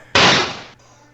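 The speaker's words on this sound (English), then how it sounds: "Gunshot. First explosion." A gunshot sound effect from an emulated Tandy Speech Sound Cartridge plays as one loud, harsh burst of hissing noise lasting about half a second before cutting off abruptly, with no talk over it.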